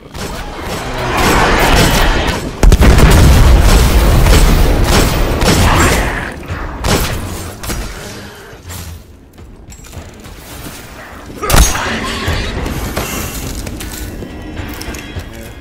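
Grenade blasts in the video game Destiny, set at a Venus spawn point: a loud, booming burst of explosions and crashing debris, with a sharp detonation near the start, another around the middle, then rumbling aftermath fading down.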